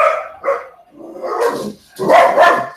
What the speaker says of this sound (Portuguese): a amiga não gosta desse cachorro que tá subindo